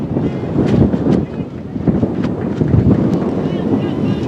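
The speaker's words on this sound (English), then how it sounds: "Wind still blowing just a little bit." West-northwest wind buffets the microphone at an outdoor softball field, a steady low rumble of gusts across the whole stretch, with a voice talking over it.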